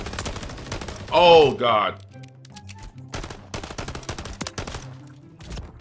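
Pistol gunfire in the video game Modern Warfare 3. Sharp single shots crack out in irregular bursts around loud game effects, and a man briefly exclaims near the start.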